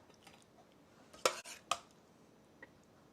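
A spoon scrapes and clinks against a pan while food is spooned over, two sharp metallic clatters close together amid a quiet room, followed by a faint tap.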